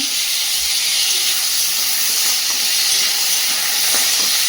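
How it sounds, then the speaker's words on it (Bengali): Yard-long beans frying in a very hot wok, a loud, steady oil hiss and sizzle that stays continuous and close throughout, with no talk over it. "কড়াটা প্রচুর গরম হয়ে, বরবটিটা হালকা ভেজে নিয়েছি"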